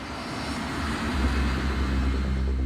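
A KLM jumbo jet accelerates down a runway for takeoff, its engines a loud, steady roar that builds slightly and holds, with no voices over it.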